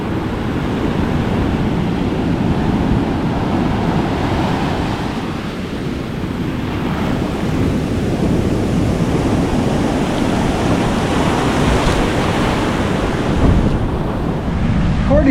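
Ocean surf on Running Waters Beach, Kauai, a loud, constant roar of breaking waves with heavy wind rumbling across the microphone, no clear pauses between swells.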